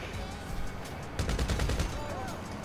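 Gunfire in a first-person shooter video game, rapid bursts of automatic shots crackling over a constant background rumble, with a denser volley in the middle, moderately loud.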